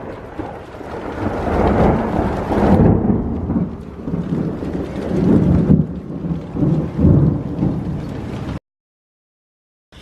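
Heavy rain pours down with deep rolling thunder rumbling through, loud and close, before cutting to silence near the end.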